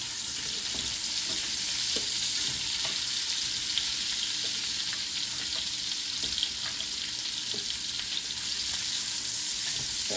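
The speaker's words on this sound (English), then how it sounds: "Now we're going to brown my sausage." Sausage sizzles and spits steadily in a pan of bacon grease, a dense close frying hiss with occasional small pops and faint utensil scrapes, no voices.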